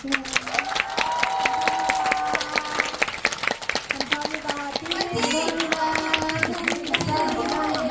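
Audience clapping and light cheering at a concert continue under speech and music, with a voice speaking briefly over the applause.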